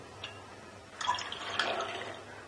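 Water is poured onto chana dal in a cooking pot, heard as a soft, close splashing trickle after a faint drip, quiet and without talk.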